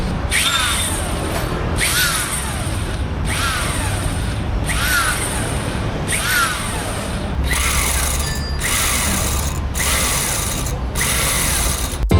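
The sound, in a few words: power drill removing car wheel nut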